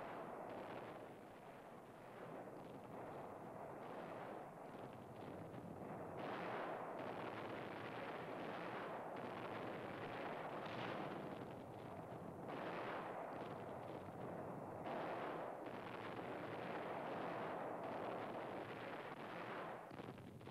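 Archival wartime footage of aircraft strafing and bombing a harbor during the WWII Allied invasion of an Italian island carries a dense, continuous rumble of gunfire and explosions, with heavy booming surges throughout.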